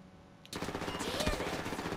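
Automatic gunfire in the game GTA starts suddenly after a quiet half second, then continues as a dense, loud burst of rapid shots to the end.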